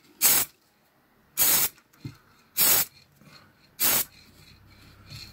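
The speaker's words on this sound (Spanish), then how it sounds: "Cogemos spray, la cola en spray, ¿eh?" Contact adhesive sprayed from an aerosol can onto fabric, heard as four short, loud hissing bursts at steady intervals with near-silence between them.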